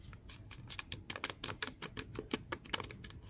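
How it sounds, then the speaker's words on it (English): Filter paper folded in half for filtering in a lab preparing copper sulphate from copper oxide and sulphuric acid, giving a rapid run of crisp, close crackles and taps with no voices. "So take your filter paper, fold it in half."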